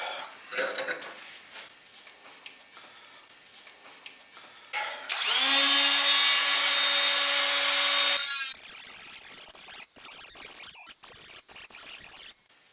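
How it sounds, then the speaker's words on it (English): An angle grinder whines steadily for about three seconds while grinding the bead off a Mercedes 230 GE wiper shaft clamped in a vise, surrounded by scraping, clattering shop noises and louder harsh hissy workshop sounds. "First of all, I remove the bead with the grinder."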